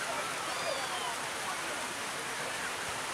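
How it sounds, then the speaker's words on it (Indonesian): Heavy rain hisses as a dense, steady wash of noise, loud and unbroken throughout with no pauses. "betul hujan berat"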